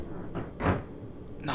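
Doors on a Network SouthEast Class 483 train open at a station in a train simulator game, a short clunk-and-hiss burst rising out of a steady low background hum, with fainter thumps before and after.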